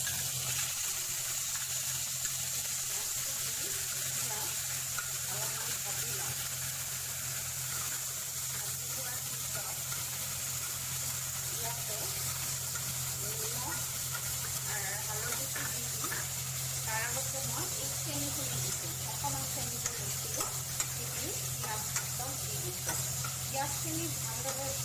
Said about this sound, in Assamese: তাৰপিছত পিঁয়াজ পেষ্ট কৰা পিঁয়াজটো দি দিম